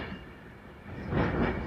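Nine-coach Avanti West Coast train from Liverpool Lime Street to London Euston at Crewe station, a low rumbling rail noise that swells louder toward the end as the carriages roll past.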